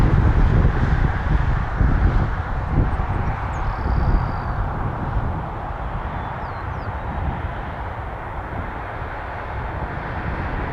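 An airliner takes off at Toronto Pearson airport, a steady broad roar of jet engines with wind noise, sustained and moderately distant, slowly easing in loudness.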